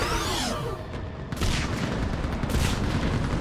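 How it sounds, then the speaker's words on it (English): Mounted gun on a besieged base in the Mass Effect 3 game fires in loud, dense bursts with sharp cracks and booming impacts, a continuous barrage close up and filling the whole moment. "Get on that gun up there and do some damage!"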